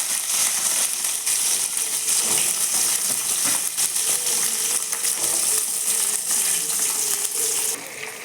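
Mustard seeds, fennel, dried and green chilies, shallots and garlic sizzle in hot oil for a Tamil lentil-ball kuzhambu, a steady dense crackling hiss with scattered pops throughout, easing slightly at the end.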